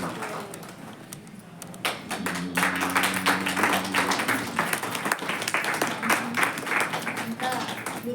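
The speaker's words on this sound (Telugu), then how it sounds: "అందరూ చప్పట్లు కొట్టి కృతజ్ఞతలు." An audience applauds at a felicitation ceremony, the clapping rising after a quiet start and holding as a dense, steady patter with a voice faintly mixed in.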